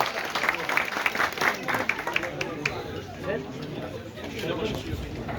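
At a village association gathering, an audience claps to welcome a performer, with scattered, uneven hand claps mixed with crowd chatter and voices nearby.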